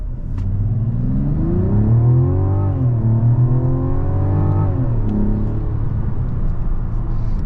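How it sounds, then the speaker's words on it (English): A turbocharged 2024 Mazda CX-90 SUV pulls away hard from a dead stop after brake boosting. The engine note climbs steadily through a gear change and keeps rising, heard from inside the cabin as a loud, continuous drone without talk. "I'm gonna brake boost this SUV and see how it does from a dead stop"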